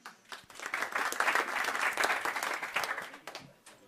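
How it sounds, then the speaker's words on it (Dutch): Sustained applause from an audience at a live poetry reading, many hands clapping densely, swelling quickly and holding steady before tapering off at the end. "Dames en heren, applaus voor uw dichter."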